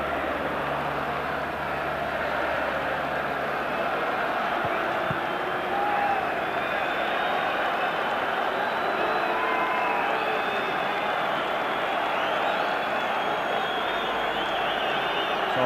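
A capacity all-ticket football crowd of some 46,000 at a Rangers v Aberdeen match murmurs steadily throughout a stadium, a dense, distant roar of voices with scattered shouts and whistles.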